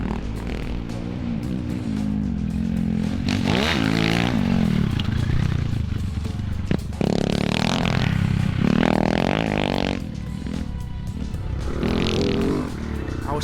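A Cannondale motocross bike pounds through a whoop section, its engine rising and falling in repeated revving surges with clattering and scraping over the bumps, loud and close throughout.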